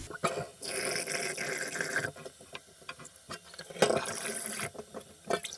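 Uncooked rice is rinsed with water in a bowl, giving irregular splashes, swishing and dripping that stop and start in short bursts, close by and moderately loud.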